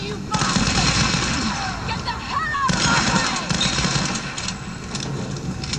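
Grenade blasts in the video game Tomb Raider (2013): loud, dense bursts of explosive noise and gunfire-like crackle fill the scene, with a second heavy surge midway.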